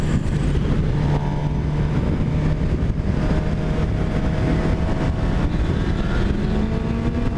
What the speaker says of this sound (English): Dude, this bike sounds mean.